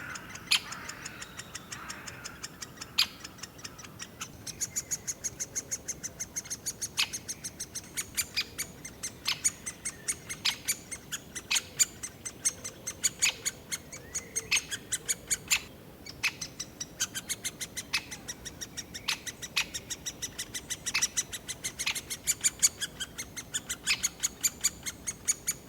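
Great Spotted Woodpecker at its nest during feeding, with sharp repeated call notes and ticking chirps coming in a steady, rapid series throughout, fairly close and clear over a quiet background.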